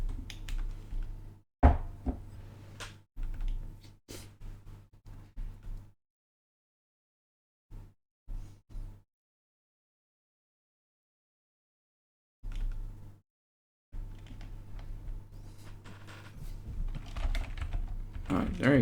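A password is typed on a computer keyboard in quick clusters of clicking keystrokes, with a long silent pause in the middle before the tapping resumes, close by and moderately quiet.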